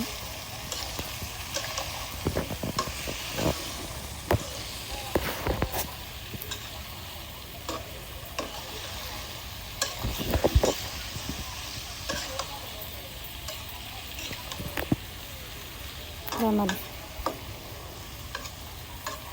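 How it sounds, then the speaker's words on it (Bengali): Spice paste frying in a pan for a bottle gourd and shrimp curry, being stirred with scattered scrapes and knocks of the utensil over a low, steady sizzle, fairly quiet and without talk. "মশলাটা আমি ভালোভাবে নেড়ে ছেড়ে মিশিয়ে নেব"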